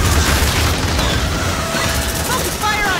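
A landmine detonates in the Aliens: Dark Descent video game, a loud heavy boom with rumbling blast texture and scattered gunfire-like crackle, amid game voices.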